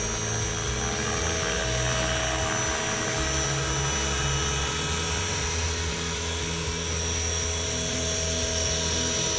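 A Flywing H1 EC135 radio-controlled model helicopter flies nearby, its rotor and motor giving a loud, continuous buzzing whine that holds steady throughout with no voices over it.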